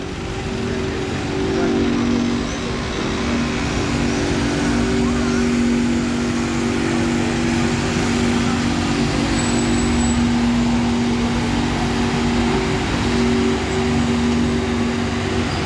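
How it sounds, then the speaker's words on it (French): A bus engine runs at idle nearby on a Monaco street, giving a steady, loud, low droning hum with no break for the whole stretch. "Il a démarré le moteur là-bas, je l'entends maintenant."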